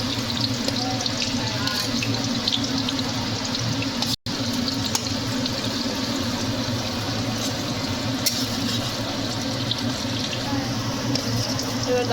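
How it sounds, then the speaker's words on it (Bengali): Onion and ginger sizzle in a hot pan for a home-made egg chow mein, a steady, dense frying hiss that runs throughout with a brief dropout near the middle. "এবার দেওয়া হবে পেঁয়াজ, একটু ভাজতে হবে"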